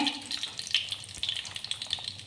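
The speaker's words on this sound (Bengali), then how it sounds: "লং দিয়ে দিলাম। একটু নাড়ি করে দিচ্ছি।" Cloves frying in oil in a pan are stirred, giving a continuous soft sizzle broken by light scraping and crackling, close and quiet.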